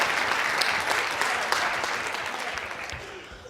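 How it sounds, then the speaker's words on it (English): Audience at a college keynote gives a loud, dense round of clapping that fills the room and then slowly thins and fades, with a few faint voices underneath. "Bigger round of applause."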